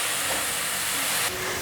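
Enoki mushrooms frying flat in a pan, a steady sizzling hiss that shifts slightly in tone near the end of the brief stretch, with no talk.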